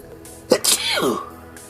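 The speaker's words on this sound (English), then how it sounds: "I'm going to sneeze" A single sharp sneeze up close, with a quick intake of breath before the explosive burst and a trailing voiced tail.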